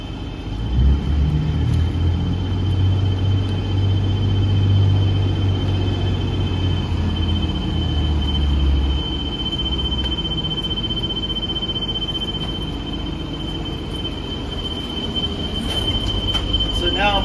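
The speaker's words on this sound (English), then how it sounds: "So I fire up my bus. All I have to do is start my ignition." A bus engine idles steadily with a constant low rumble and a thin high whine while its air brake pressure builds, a loud, continuous drone with no speech.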